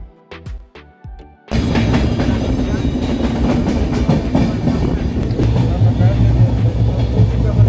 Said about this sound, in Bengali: চলুন আমাদের ট্রেনের জার্নি শুরু হবে।